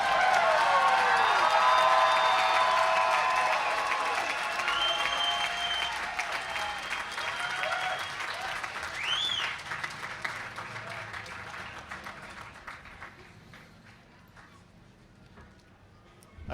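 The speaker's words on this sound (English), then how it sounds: "Let's give a big round of applause to the MRED graduates." An audience at a university graduate commencement ceremony applauds the graduates, a broad wash of clapping with some cheers and whistles that gradually thins and fades away.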